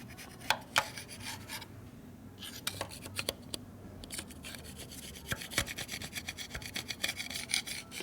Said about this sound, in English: go ahead and scrape that up there, the last of it. Make sure you don't scrape the cases while you're getting the gasket off.